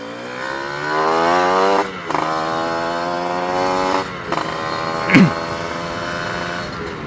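A Kawasaki Ninja 180cc motorcycle engine runs close by with a steady buzzing drone, dips briefly twice, and has a sharp knock or blip near the end, with no talk over it.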